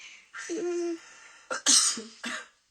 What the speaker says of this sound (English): She's saying it, and then she's coughing